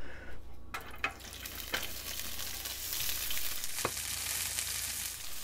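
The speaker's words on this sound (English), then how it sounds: "my hope is to fry these little tiny broccoli florets" Tiny broccoli florets frying in oil, a steady close sizzle with a few sharp pops and light stirring noises, no voices.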